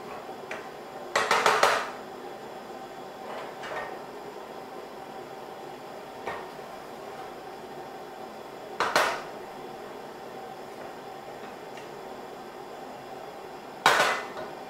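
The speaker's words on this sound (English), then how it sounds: "Just get them moving around, just dry out the last sort of soggy moisture out of the potatoes." Boiled potatoes are tossed and shaken in a hot metal pan to dry off, giving a few loud rattling clatters spaced several seconds apart over a steady background hum, with no talking.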